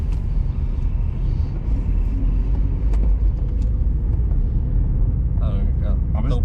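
A learner driver's car engine revs and accelerates as a steady, close low rumble throughout, with people talking over it inside the cabin.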